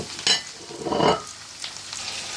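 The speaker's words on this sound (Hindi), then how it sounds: "अब मैं इसके अंदर चिकन ऐड कर रही हूँ और इसको मैं अच्छे से मिक्स करूँगी।" Chicken pieces frying with onions in a hot pan, sizzling steadily while a utensil stirs them, with a sharp clatter early and a louder burst of sizzle midway, no talking.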